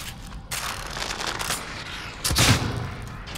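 Gunfire in the horror game The Evil Within: a short volley of shots, then a louder, heavier blast about two seconds later, heard alone with no speech.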